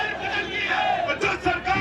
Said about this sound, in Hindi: बहुत ज्यादा भीड़